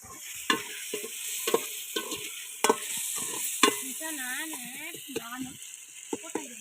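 Tomato rice cooking in a pan, oil separating as it boils, gives a steady close sizzle and frying hiss with repeated sharp scraping stirs, while voices talk over it.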